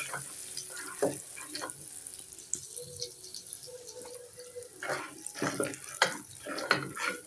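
Spices and ginger-garlic paste sizzle and crackle in hot oil in a home kitchen, with scattered bursts of spitting and stirring that rise and fall. The sound is close and moderately loud, and nobody speaks over it.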